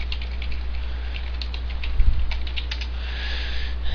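Quick, light keystrokes tap on a computer keyboard in short irregular bursts, with a brief pause partway through. Throughout, they sit over a steady low electrical hum.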